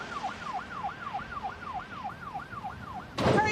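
Stokes County ambulance siren wailing in a regular, repeating rise-and-fall pattern at moderate distance, ending in a sudden burst of louder noise.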